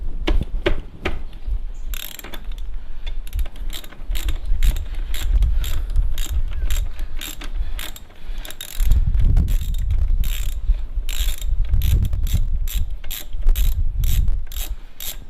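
A ratchet wrench undoes a 14 mm brake caliper bolt on a Yamaha MT-01 motorcycle, rapid repeated clicking bursts close up, alone without talk.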